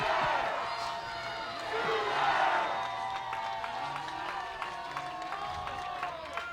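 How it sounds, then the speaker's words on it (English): Crowd noise at a women's college softball game, Oklahoma versus Washington: a steady roar of cheering and applause fills the stands, swelling early then holding as a broad, busy wash with scattered claps and shouts. "Great to hear the noise of the crowd again."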